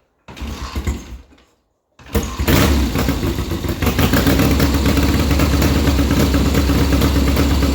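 A 1972 Triumph 650 Bonneville engine sputters briefly, cuts out, then starts and settles into a loud, steady raised idle around 2,000 rpm close by.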